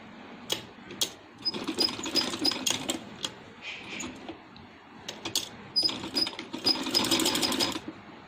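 A sewing machine stitches a neckline onto a dress, its motor whirring steadily in close bursts with brief pauses and a rapid mechanical needle clatter, with no talking.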